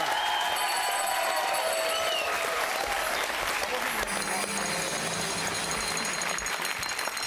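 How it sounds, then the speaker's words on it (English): Studio audience applause on a televised Christmas music quiz show, dense and loud steady clapping filling the room, swelling slightly partway through with a crowd wash behind it. "Can we have a round of applause for Santa?"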